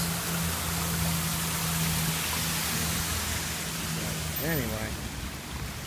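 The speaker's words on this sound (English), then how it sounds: "we continue to see the rain fall. And the lightning is going off like crazy" Heavy rain falls steadily during a thunderstorm, a dense constant hiss close to the microphone, with someone speaking briefly over it near the end.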